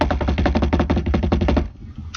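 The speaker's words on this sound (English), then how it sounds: "drum roll please" A rapid, evenly spaced burst of drum hits rattles off as a drum roll effect, loud and close, cutting off abruptly after about a second and a half.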